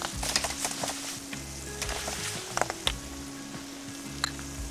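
Onions and chopped chili sizzling in a pan for a mushroom curry, a steady close frying hiss broken by occasional stirring scrapes and clinks, with no talking.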